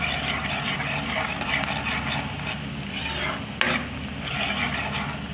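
Black peppercorns and half a teaspoon of cumin stirred into onions frying until pink in a pan, a steady close sizzle with scraping stirring throughout and one brief sharp knock midway.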